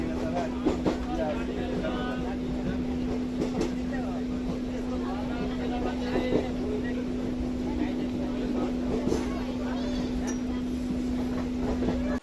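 Steady rumble and hum inside a moving train carriage, with faint rattles and clicks throughout and muffled voices in the background.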